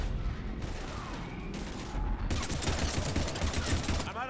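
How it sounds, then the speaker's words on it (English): Heavy gunfire in the video game Mass Effect 3, sustained rapid bursts of shots and impacts, loud and continuous, growing denser toward the end with faint voices mixed in. "We're taking heavy fire."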